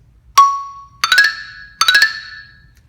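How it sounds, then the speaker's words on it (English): Three struck mallet-keyboard hits: a single clean note, then two quick grace-note flams leading into a ringing main note, bright and close, no talking. "when we add in the other 2 grace notes, it sounds like this"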